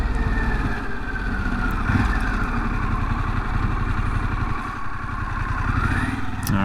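A Harley-Davidson Pan America motorcycle ridden on a dirt road, its engine droning steadily and loudly with a mid-pitched rumble and slight rises in revs, no talking.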